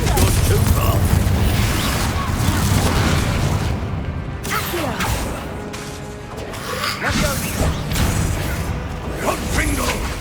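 In Hogwarts Legacy, Confringo explosive spells crash and boom amid combat, with whooshes, impacts and a loud, dense rumble lasting several seconds, broken by brief lulls, and a voice speaking over part of it.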